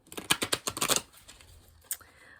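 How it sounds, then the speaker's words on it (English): A deck of oracle cards is quickly shuffled close by on the floor, a rapid run of crisp riffling flutters for about a second, followed by a few soft, scattered handling sounds. "Just gonna quick shuffle the cards."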